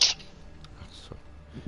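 A single short, sharp sneeze bursts out at the very start, followed by quiet room tone and faint stray sounds.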